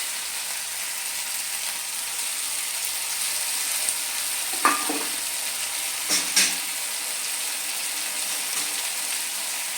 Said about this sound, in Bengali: এবার আমি এর মধ্যে দিয়ে দেবো একটা টমেটো পেস্ট